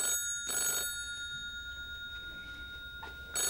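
An old-style telephone bell rings in bursts, two clear rings separated by a pause with another starting at the end, heard alone without talk.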